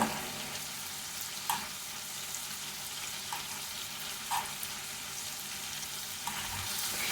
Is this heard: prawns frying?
yes